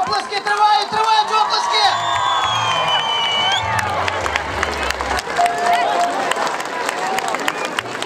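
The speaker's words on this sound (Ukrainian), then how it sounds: "Оплески!" A crowd at a parachuting display in Husiatyn applauds and cheers for a landing parachutist. The noisy, steady crowd sound continues throughout, with voices and shouts mixed in.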